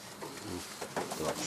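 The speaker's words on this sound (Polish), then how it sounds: "Gołębie idealne w ręce." Janssen racing pigeons coo softly while held in the hand, low murmuring calls rising and falling close by over faint handling rustle.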